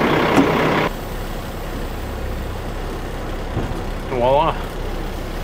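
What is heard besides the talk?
truck driving away after uncoupling dump trailer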